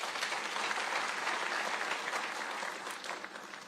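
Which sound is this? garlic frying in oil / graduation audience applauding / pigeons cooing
graduation audience applauding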